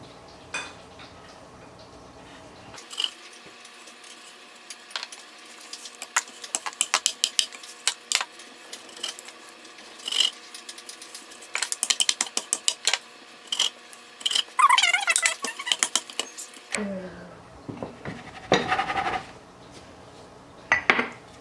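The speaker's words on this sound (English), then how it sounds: "So we're just gonna cut a bunch of circles out and just set those to the side." Cutting circles out of rolled pie dough with a cookie cutter for mini pecan pies, heard as quick close clicks, taps and light clatter of kitchen tools on a counter in irregular bursts, with no talking.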